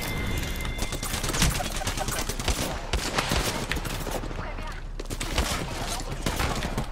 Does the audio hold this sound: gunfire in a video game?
yes